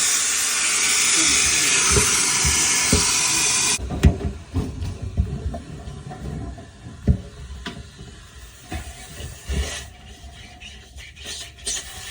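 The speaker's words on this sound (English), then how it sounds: "keep vacuuming it with this" A vacuum cleaner runs with a loud steady hiss for about four seconds and then cuts off. Scattered knocks and rattles follow as the drum of a noisy, vibrating Electrolux dryer is turned by hand and cleaned.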